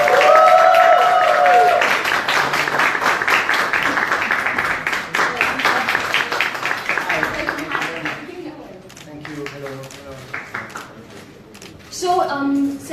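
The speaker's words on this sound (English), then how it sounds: "please join me with a thunderous round of applause for the lead actor of Chef, Saif Ali Khan" An audience applauds at a press conference for actor Saif Ali Khan, a dense burst of clapping that thins out after several seconds as camera clicks and voices take over.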